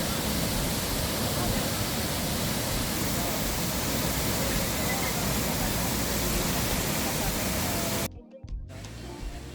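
A loud, dense roar of rushing, crashing water from Tegenungan Waterfall in Bali fills the clip without letup, then drops away abruptly near the end.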